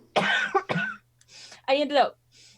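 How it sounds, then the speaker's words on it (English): A person coughing a few times in short, close bursts during a tabletop role-playing session, with brief speech in between. "Me as a player has to cough here."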